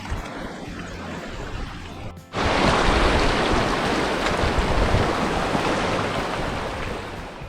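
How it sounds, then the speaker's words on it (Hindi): A noisy mountain river rushes alongside a rocky trail, a loud continuous roar that surges up abruptly after a quieter, windy opening. "साथ बहती शोर मचाती खूबसूरत नदी"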